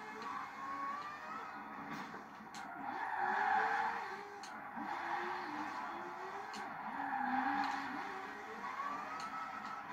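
Tires skidding and squealing as a car drifts in the racing game Forza Horizon 4, a steady engine drone with wavering squeal rising and falling across the clip, fairly loud and continuous, with no talk.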